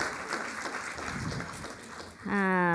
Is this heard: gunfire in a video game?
no